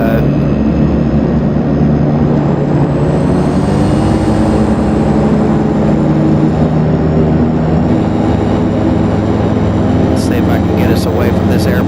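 Twin Otter turboprop engines drone loud and steady in a flight simulator as they ease back into beta range, a dense continuous rumble with faint clicks near the end.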